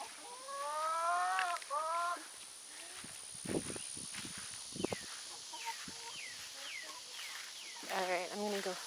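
Backyard hens and a small rooster cluck and call in an irregular series of short, nasal squawks, fairly close, with soft footsteps and rustling in between and faint voices nearby.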